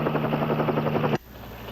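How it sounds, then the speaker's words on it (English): A helicopter cruises overhead at sea, its rotor throbbing in a fast, steady chop that is loud and close before cutting off abruptly near the end. "His only contact with me was the helicopter cruising overhead."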